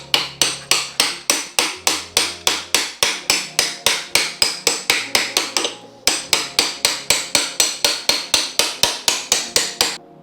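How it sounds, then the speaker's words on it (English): Rapid, steady hammer blows drive a suspension pin into the swing arm of a Kaabo Wolf electric scooter, roughly three sharp metallic strikes per second, close and loud, with one brief pause partway through. "Hammered my pin back in the other side"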